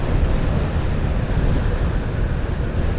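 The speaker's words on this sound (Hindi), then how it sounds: "हवा इतनी तेज़ चल रही है कि ना पूछें" Strong wind roars across the microphone while riding a motorbike through Hunza in northern Pakistan, a steady, loud buffeting rush that fills the whole clip without any talk.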